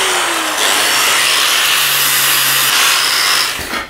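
Rusty metal being cleaned before welding, likely with a power tool, producing a loud, continuous harsh abrasive grinding roar close up that holds steady for several seconds before tapering off.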